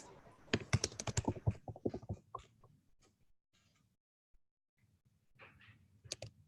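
Several people typing on computer keyboards during a quiet pause in an online meeting, a burst of dense clicking up front, then sparse scattered keystrokes, a near-silent gap, and a brief return of clicks at the end.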